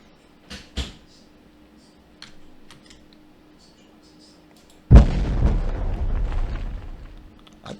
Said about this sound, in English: Did that explosion force push the ship back?